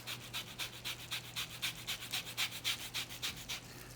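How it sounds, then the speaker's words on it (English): An orange is zested on a grater straight into a sauce, giving a soft, quick rhythmic rasping of about a dozen strokes, close but quiet, with no talk. "I'm going to zest a little bit of this orange right into our sauce"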